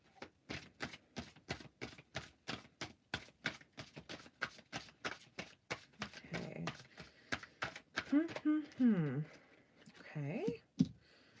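A deck of playing cards riffled in a rapid run of crisp, evenly spaced clicking bursts, close and fairly loud, with a voice talking over the last few seconds.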